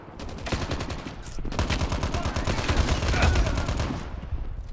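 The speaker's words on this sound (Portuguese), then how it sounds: "Tem alguém me atirando ali" Gunfire in the mobile shooter Call of Duty Mobile: rapid, loud automatic bursts that pour out almost continuously, with a brief gap early on, close and dense, with no talk over them.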